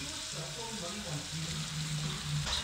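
Fish pieces going into a pan of hot garlic butter, a soft, close sizzle of frying that holds steady through the moment with a faint hiss of moisture.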